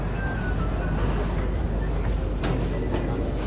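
Mumbai metro train carriage: a steady loud low rumble of the moving train, with a brief brighter rattle near the end and no talk.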